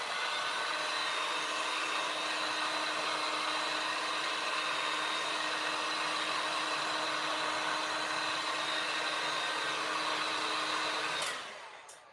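Hair dryer blowing steadily on a DIY craft project, a continuous loud whooshing hum that cuts off near the end, no talking.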